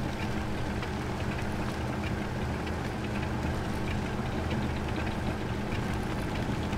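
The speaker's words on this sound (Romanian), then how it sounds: "Nu mai vrea, nu mai vrea motorul." Truck engine in the MudRunner off-road driving game, nearly out of fuel and struggling to keep running, gives a steady, dense low rumble and drone that holds at an even loudness throughout with no talk over it.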